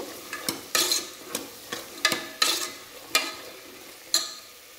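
Ingredients for pitikina pappu saru frying in a pan, a spoon stirring in repeated broadband scraping strokes roughly every half second over a steady low sizzle, close and fairly loud, with no voices.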